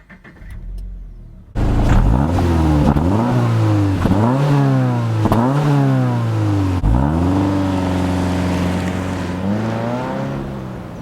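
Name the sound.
sports car engine revving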